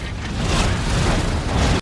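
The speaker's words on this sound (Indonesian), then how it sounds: "gas yang sudah Brenda siapkan terlihat meledak" A gas trap explodes in a film scene, releasing a loud, sustained, roaring blast that fills the short moment and then cuts off abruptly.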